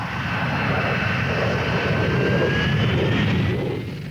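A Harrier GR3 jet roars through a takeoff, a loud sustained engine rumble with a rising whine, steady and close throughout before easing slightly at the end.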